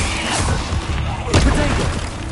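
A Bombarda blast spell goes off in Hogwarts Legacy with a heavy, booming crash amid a busy, loud mix of spell effects and battle noise, and a voice speaking over it.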